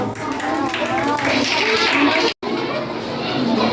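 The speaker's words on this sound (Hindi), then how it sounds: "शुभम के लिए जोरदार तालियां।" Applause for a winning contestant on a student quiz show, broad steady clapping with crowd chatter and children's voices filling the room, briefly cut off midway before resuming.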